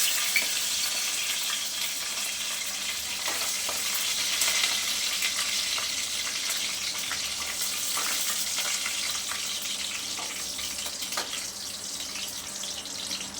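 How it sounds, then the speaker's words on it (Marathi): Continuous crackling and sizzling of curry leaves in hot oil, with scattered sharp pops throughout, fairly close and steady. "कढीपत्ता छान तडतडला"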